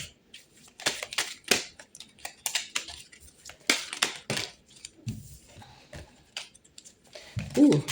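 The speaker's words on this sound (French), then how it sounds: "on va aller tirer 4 cartes pour vous" Tarot cards are being shuffled and drawn, giving a run of crisp close flicks, slaps and papery rustles in irregular bursts, with a brief low thump near the end.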